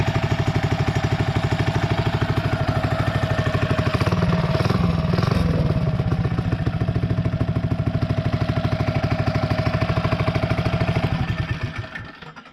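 A 79cc small single-cylinder engine fitted with a 1.3 ratio intake rocker runs close by with a rapid, even putter, briefly revving higher and then idling before it shuts down near the end.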